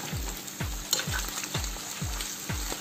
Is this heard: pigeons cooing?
no